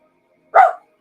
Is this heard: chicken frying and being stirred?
no